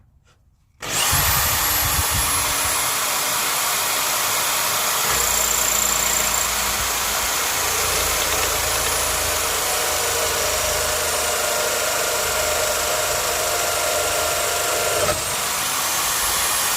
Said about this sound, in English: we can get on with drilling the other ones